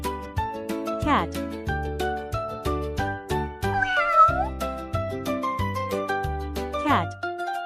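A cat gives three separate meows, clear and moderately loud, spaced a few seconds apart over soft, bouncy background music.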